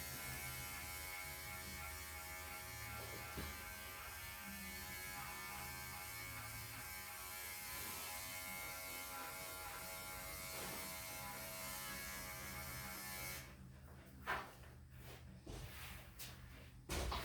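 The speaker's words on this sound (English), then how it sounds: "I'm going to go with my little clipper. And I'm at a 10 blade. And I'm just going to shave her armpits." A small electric clipper fitted with a 10 blade buzzes steadily and close while shaving a dog's armpits, running continuously before a few clicks and handling knocks near the end.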